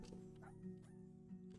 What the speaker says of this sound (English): My dog was asleep on my lap until the neighbour's dog started barking.